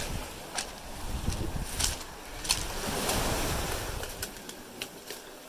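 Waves lap and splash against the shore of an abandoned quarry in Newfoundland, a steady wash with scattered sharp splashes and some wind rumble, heard close by.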